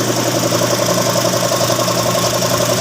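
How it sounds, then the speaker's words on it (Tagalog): A Honda Brio car engine idles steadily with a smooth, even hum and a slight knock, loud and close throughout, with no other sounds. "pinaandar na ang makina"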